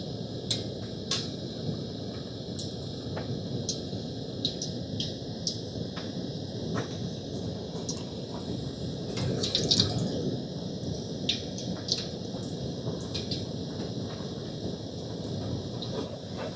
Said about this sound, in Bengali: চিপসগুলো দেওয়ার পরে ঠিক মাঝখান থেকে তেলটাকে এইভাবে একটু দোল দিতে হবে